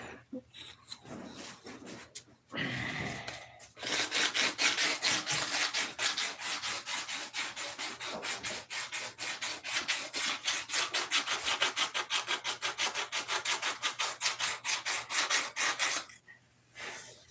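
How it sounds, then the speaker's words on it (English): A wooden piece is sanded by hand in quick, rhythmic back-and-forth strokes, close and steady for about twelve seconds, after a short earlier burst of rubbing. "1 week more is all I'm going to spend on sanding this"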